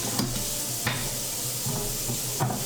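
A Vitamix blender jar being rinsed under a running tap makes a steady broadband hiss of water, broken by a few faint knocks as the jar shifts, with no speech.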